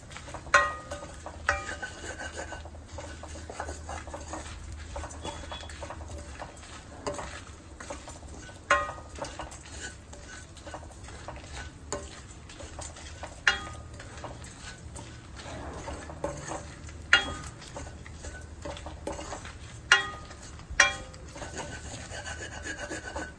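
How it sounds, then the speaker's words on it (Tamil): Grated coconut being stirred and sautéed in a pan on medium flame, a continuous scraping rub of a spatula with periodic sharper knocks against the pan, moderately quiet and close. "கைவிடாம கலக்கினே இருக்கணும், இல்லைன்னா தேங்காய் அடி பிடிச்சிடும்"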